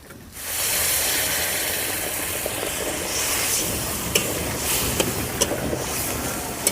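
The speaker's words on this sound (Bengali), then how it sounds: "এবার আমি পরিমাণ মতো জল দিয়ে দেবো" Water is poured into pointed gourd frying in spice paste for a traditional tel potol curry, bursting into a sudden loud hiss that settles into steady close sizzling with a few light clicks.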